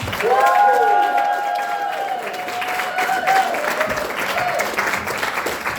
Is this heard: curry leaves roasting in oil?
no